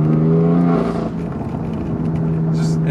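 BMW F8X with a secondary catalytic converter delete revs low in the rev range, giving a deep, gruff exhaust tone that stays loud and steady, then settles slightly lower after a second.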